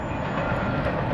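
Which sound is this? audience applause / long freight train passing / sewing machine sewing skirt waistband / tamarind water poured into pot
long freight train passing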